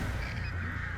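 Crows cawing from the Artist's birds in the Dead by Daylight video game, a steady dense cawing texture over continuous game ambience through the whole second, fairly loud and close.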